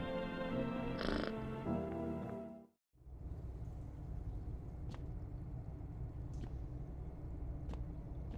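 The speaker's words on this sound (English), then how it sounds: "Pet the kitty." A cat in the video game No, I'm Not A Human purrs while being petted, a faint low rumble that runs steadily through the clip after a louder mixed passage at the start, with no talking.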